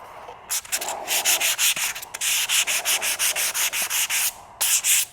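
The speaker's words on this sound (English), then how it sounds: "you can sand like this, I guess" Hand sanding an inexpensive guitar body along the wood grain: brisk, rhythmic rasping strokes, about a dozen close and loud back-and-forth passes with short pauses, and no talking.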